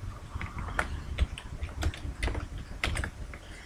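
Computer keyboard keys, the arrow keys, pressed one after another in an irregular run of light, close clicks and taps while shapes are moved in Microsoft Visio 2010.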